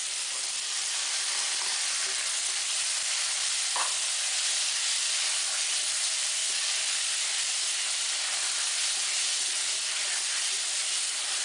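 Red kidney beans sizzle in a frying pan with a steady, close hiss and crackle that holds evenly throughout, broken only by a faint clink partway through, with no talking.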